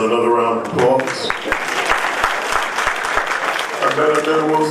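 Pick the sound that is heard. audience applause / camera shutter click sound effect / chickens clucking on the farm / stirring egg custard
audience applause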